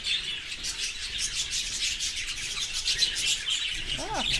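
Budgies chirp and tweet in a steady, busy chatter while being fed by hand, with a few rising calls near the end, close and fairly loud.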